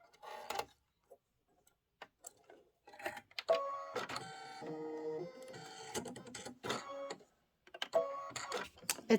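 Computerized embroidery machine stitching small spider legs onto a Halloween pillow with black bobbin thread, giving rapid mechanical ticking bursts and steady whirring runs with short pauses between stitch passes, fairly quiet and close.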